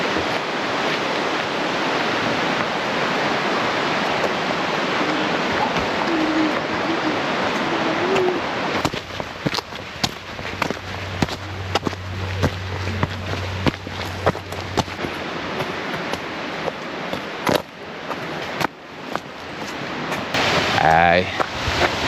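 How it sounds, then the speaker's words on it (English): Heavy roar of Grotto Falls, a waterfall on a hiking trail in the Smoky Mountains, rushes steadily up close, then gives way to choppy rustling and handling noise with a few faint voices. "I think we have came to our place, Grotto Falls, because I hear some heavy waterfalls."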